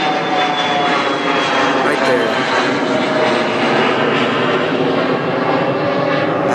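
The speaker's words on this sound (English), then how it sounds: "The loud planes fly over that I get to hear every day" Loud airplanes roar steadily overhead throughout, a dense continuous rumble with a voice briefly speaking underneath.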